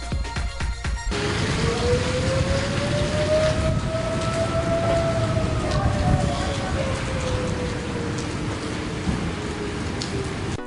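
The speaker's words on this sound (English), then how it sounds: "the sirens continued to sound as the storm moved out" A long, wavering tornado siren rises and falls in the distance beneath steady heavy rain during a July 2017 storm in north-central Indiana, with no voices.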